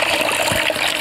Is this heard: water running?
yes